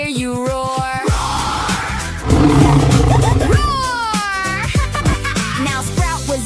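A loud animal roar, like a big cat such as a lion or tiger, rises in a burst near the middle amid a busy musical backing, with other animal-like calls scattered around it in a playful zoo-escape song.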